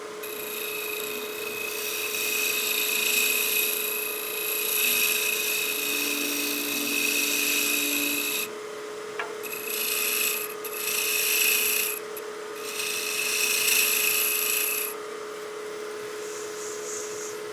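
A spindle roughing gouge cuts a wooden bat house ornament spinning on a lathe, giving a steady high rasping whine that stops briefly twice and then resumes, close and fairly loud over a low motor hum.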